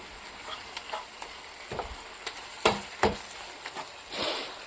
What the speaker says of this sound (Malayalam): നമ്മുടെ തക്കാളിയെല്ലാം ഒന്ന് തവി വെച്ചൊന്ന് ഉടച്ചു കൊടുക്കാം